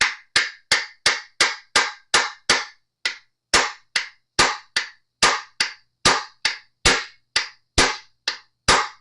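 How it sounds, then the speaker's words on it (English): A long run of sharp, evenly spaced taps from a rubber mallet on a Fender Stratocaster guitar tuner, about two per second, each a crisp knock that dies away quickly; close by, with no talking. "Just let the weight of the hammer do the work."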